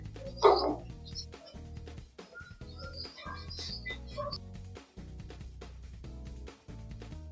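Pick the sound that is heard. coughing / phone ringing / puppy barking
puppy barking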